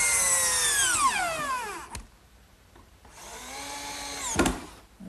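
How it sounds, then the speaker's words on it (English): Cordless drill driving screws to fasten a cabinet top assembly in a woodworking shop, two close bursts of whining motor that wind down in pitch as each screw seats, with a short pause between. "this top assembly gets fastened to the cabinet with screws."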